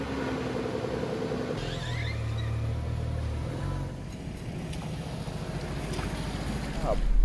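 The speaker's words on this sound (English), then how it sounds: "Out on the road in probably the cheapest BMW 528i" A high-mileage BMW 528i with a manual gearbox drives along a snowy road, its steady engine drone and road rumble continuous throughout, with a deeper low note for the first few seconds and a rise near the end.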